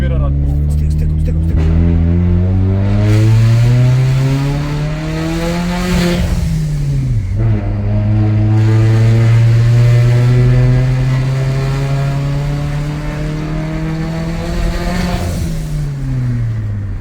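Audi A4 B7 1.8T turbo petrol engine accelerating on a test drive at low boost, with rising revs climbing through two gear changes, loud and close inside the car, while someone talks over it.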